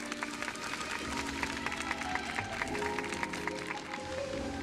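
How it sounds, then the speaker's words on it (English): A crowd in the video game Honkai: Star Rail, at a Penacony festival, applauds steadily, dense clapping holding at a constant level throughout with no voices over it. "we invite you to express your warmest applause and deepest appreciation for OT Alfalfa"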